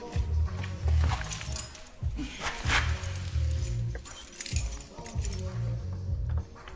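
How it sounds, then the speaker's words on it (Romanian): A bunch of keys jangles and clinks in several bursts at close range during a cluttered clear-out of a double-decker bus conversion, with people talking and footsteps around. "mai sunt acolo niște chei"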